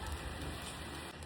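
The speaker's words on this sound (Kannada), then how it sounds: "ಮಳೆ ಬರ್ತಾ ಇದೆ." Rain falls steadily, giving a continuous close hiss that stays even throughout with no voices.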